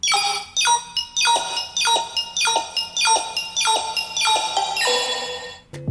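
A bright, bell-like synth pattern in an FL Studio trap drop repeats in quick descending stabs, with washes of automated reverb swelling at moments, steady and alone without talking.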